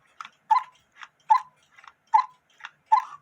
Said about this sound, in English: as it ticks away, the water wheel rotates